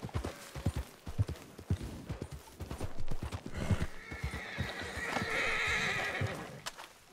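A horse in Red Dead Redemption 2 trotting with rhythmic, close hoofbeats, then letting out a long, loud neigh that rises over the steps before fading.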